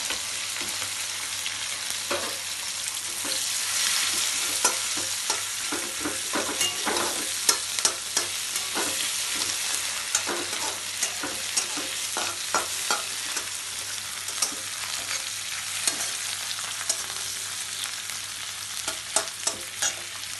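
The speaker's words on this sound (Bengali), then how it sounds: "যখন দেখবে এটা প্রায় ভাজা ভাজা হয়ে এসছে" Tomato, onion, garlic, ginger and green chilli fry in a pan for an office lunch, a steady sizzle running throughout with frequent scraping and clicking stirs of the spatula close up, no talking.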